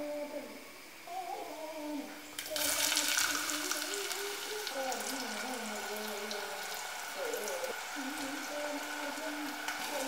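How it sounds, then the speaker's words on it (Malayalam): Onion, ginger, garlic and green chilli sizzle in hot coconut oil, a soft, steady frying hiss that swells after a clatter of ingredients dropping into the pan, with someone speaking over it. "ഇതിലേക്ക് സവാള, ഇഞ്ചി, വെളുത്തുള്ളി, പച്ചമുളക് ഇട്ട് വഴറ്റിയെടുക്കാം."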